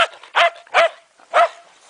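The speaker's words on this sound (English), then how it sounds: "Hey, Bumpy, what are you barking at?" A Shetland sheepdog barks outdoors in a snowstorm, four sharp, close, high-pitched barks in quick succession with short gaps between them and no talking.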